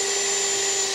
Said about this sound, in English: We're gonna drill it.